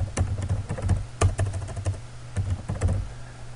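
Typing on a computer keyboard into a notepad file, a close, uneven run of crisp key clicks coming in short bursts with brief pauses between them, with no voices.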